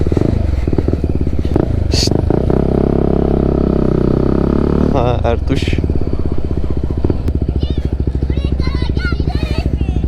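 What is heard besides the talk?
NK250 motorcycle engine with Akrapovic exhaust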